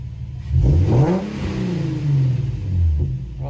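A Q50 car engine fitted with a Tomei part revs up and settles, rising and falling in pitch with a whooshing intake suction note, close and fairly loud.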